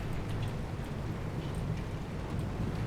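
A thunderstorm in the video game Pacific Drive: constant heavy rain with low rumbling thunder underneath, a dense, unbroken roar with no pauses.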